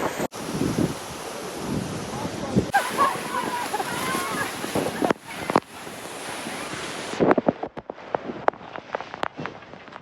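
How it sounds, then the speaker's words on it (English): Niagara Falls roars from a tour boat close to the waterfall as heavy spray pours down. Loud, continuous rushing is mixed with wind buffeting the microphone, dropping out briefly and then returning in gusts. "We are literally in the waterfall."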